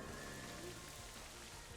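Steady rain hiss from the Rain Dance move in Pokémon Scarlet, a continuous broadband downpour with faint low rumbling beneath, even and unbroken throughout.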